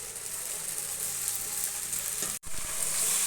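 Boiled pasta with onion, carrot and garlic frying in a pan, a steady close sizzle with stirring that drops out briefly near the end, then resumes.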